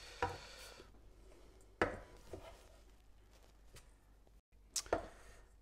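A knife comes down on bunched parsley on a board in a few sparse, crisp chops, spaced apart in an otherwise quiet kitchen.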